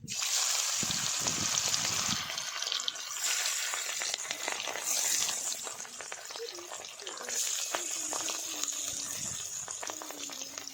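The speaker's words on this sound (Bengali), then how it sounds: "মাছে লবণ হলুদ মাখানো হয়ে গেছে গরম হয়ে গেছে এবার আমি মাছটা দিয়ে দিচ্ছি" Barramundi (bhetki) fish rubbed with salt and turmeric sizzles as it fries in hot oil, giving a continuous crackling hiss that swells and eases over several seconds, heard close up.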